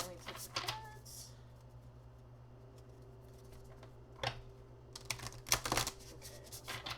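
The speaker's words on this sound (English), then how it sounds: "I'm just going to keep shuffling until I get the feeling that I gotta finally take the cards." Tarot cards being shuffled at a reading, heard as quiet, irregular riffling and slapping taps that cluster into a denser burst of card clicks toward the end, over a low steady hum.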